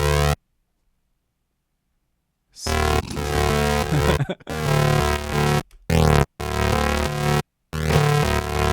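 Serum synth patch from a remake of a track: dense, buzzing harmonic tones with a pitch bend on the first note. Several sustained notes play in choppy bursts with short gaps, following a long silent stretch.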